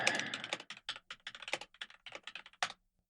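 Computer keyboard fitted with new key switches, typed on in quick, irregular bursts of crisp clicks and clacks, close and clear with no talk.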